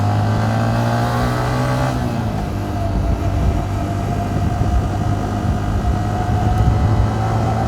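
A Yamaha New Vixion Lightning motorcycle accelerating on a test ride through city streets, the engine note climbing through the revs then settling into a loud, sustained roar close by.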